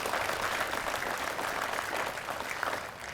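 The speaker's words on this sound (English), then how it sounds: "please, give them a big round of applause" Steady, sustained applause from an outdoor crowd at a riverfront park grand opening, a dense wash of many hands clapping at even volume for the whole stretch.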